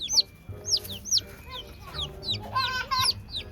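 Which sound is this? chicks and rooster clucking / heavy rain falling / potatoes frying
chicks and rooster clucking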